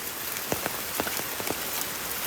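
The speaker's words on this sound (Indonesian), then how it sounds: "Ini nggak bisa kok, terlalu lebat hujannya." Very heavy rain pours down outdoors on Gunung Salak, a dense, close hiss of rain hitting surfaces with scattered louder drops, and no voices.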